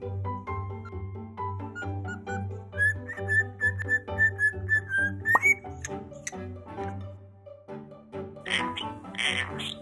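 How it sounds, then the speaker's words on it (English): A pet parrot whistles a clear, sustained tune, its notes wavering and sliding upward before a few short chirps and squawky calls, nearby and alone. "He started learning to whistle very early."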